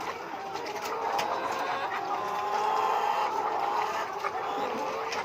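Vaccinated laying hens on a poultry farm make soft, scattered clucks over a steady background hum, with no voices in the clip.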